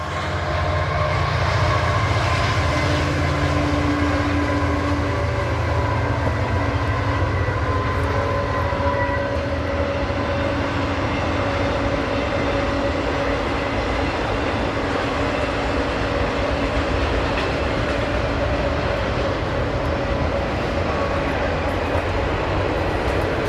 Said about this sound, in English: I think we have a train coming by behind us.